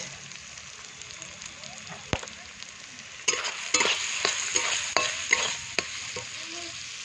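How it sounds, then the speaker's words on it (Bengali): Spiced masala with red chilli powder sautéing and being stirred in a home kitchen pan, a steady sizzle broken by sharp scraping clinks of the spoon that grow louder and busier in the second half. "এই দেখো আমার মশলা কষানো হয়ে গেছে"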